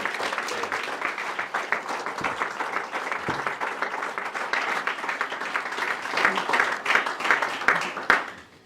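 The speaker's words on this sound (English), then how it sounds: "Please put a massive round of applause to this year's Room to Reward winners." An audience at a regional volunteer awards ceremony applauds this year's award winners, dense steady clapping throughout that swells slightly near the end, with a few voices faintly mixed in.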